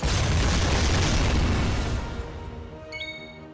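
A Kaboom spell explosion in the role-playing game Dragon Quest XI, a loud broad boom that rolls out and fades, followed by faint chiming tones as it dies away.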